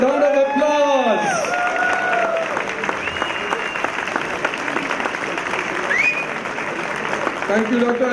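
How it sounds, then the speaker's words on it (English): An audience at a BNI Mumbai members' day event applauds, a sustained wash of crowd clapping under tonal music and swooping electronic effects, with some voices mixed in. "round of applause"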